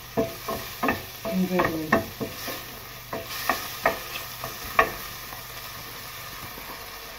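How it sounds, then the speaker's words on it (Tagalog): Chicken cooks in a pan for Lucky Me instant pancit canton, a spatula scraping and stirring in uneven strokes over a steady close sizzle, with a brief word spoken. "lutuin muna natin yung chicken bago natin ilagay yung"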